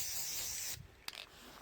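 A can of fluorescent spray paint on winter trail work along the Iditarod Trail gives a close, loud hiss for just under a second. The hiss cuts off to quiet, broken by one small click.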